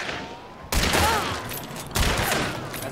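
Gunfire erupts in the video game Hunt: Showdown, with two loud, sharp gunshots spaced about a second apart. Each shot rings out and decays with a long echoing tail.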